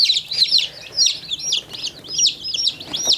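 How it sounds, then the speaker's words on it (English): Baby chicks, including Easter Egger, golden Wyandotte and Silver Laced chicks, peep in rapid, high repeated chirps, close and fairly loud, with overlapping calls and no talking. "3 Easter egger chicks, 2 golden Wyandotte chicks, and 1 silver lace chicks."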